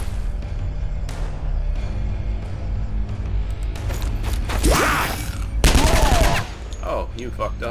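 Gunfire in the turn-based strategy game Skyshine's BEDLAM Redux, with a couple of sharp bursts of shots and mechanical clatter over a low, steady game background, and no talking.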